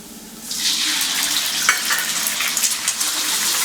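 Beaten eggs hit a hot pan for bitter melon stir-fried with egg, setting off a loud, sustained sizzle that rises suddenly after a quiet start, with small crackles and spatters.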